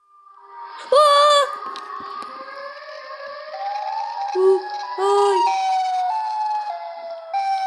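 A wailing siren from the Siren Head monster in a video game rises and shifts in pitch, with a sharp loud burst near the start and steady tones holding on after.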